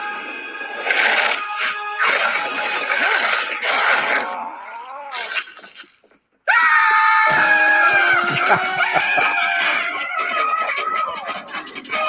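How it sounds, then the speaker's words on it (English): A long, loud scream from a scene in the Loki series, shrill and wavering. It breaks off into a moment of silence and then resumes with sharp, rising cries over a busy background. "That scream is just brilliant."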